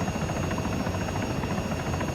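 A helicopter in the ArmA 3 combat game with its advanced flight model: a steady, loud rotor thrum and engine whine drone without a break, with no talking.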